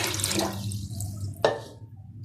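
Plain water, about one and a half to two litres, is poured into a cooking pot, splashing steadily before it stops abruptly with a final drip, close by.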